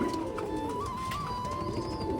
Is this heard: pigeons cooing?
yes